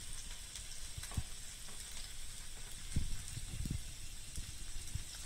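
Onion and asafoetida sizzle quietly in hot oil with curry leaves, mustard seeds, urad dal and chilli for a tempering, a soft continuous crackle with a few louder pops and spatters.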